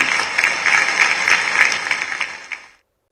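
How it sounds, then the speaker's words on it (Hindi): Applause for army soldiers at a televised news programme, a dense steady patter of many hands clapping, loud and close, fading out after under three seconds with no talk over it. "तालियां बजाकर सेना के जवानों का अभिनंदन किया जाना चाहिए"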